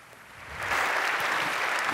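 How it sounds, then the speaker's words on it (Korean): An audience breaks into applause at a church face-to-face youth broadcast, clapping that swells after a quiet start into a dense, steady wash of hands. "박수 부탁드립니다."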